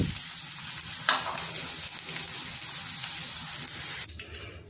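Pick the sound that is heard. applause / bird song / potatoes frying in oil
potatoes frying in oil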